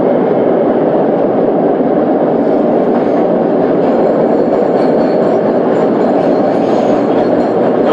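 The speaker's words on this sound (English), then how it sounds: "That's the Long Island Railroad." A Long Island Rail Road train passes close by, a loud, steady rumble of rolling wheels and rail noise filling the whole stretch without letup.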